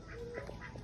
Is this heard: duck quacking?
yes